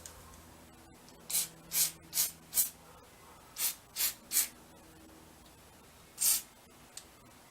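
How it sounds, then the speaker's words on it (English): Seven short bursts of aerosol lubricant spray hiss onto a Tristar 12-gauge semi-automatic shotgun, clustered in two quick groups, then a final longer spray, close and fairly loud over a quiet background. "Actually, we'll just spray some lube on it"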